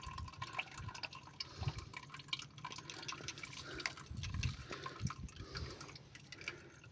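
Water mixed with oil drains from a tractor into a bucket, an uneven splashing and dripping trickle with gurgling bursts, close and steady, with no talking.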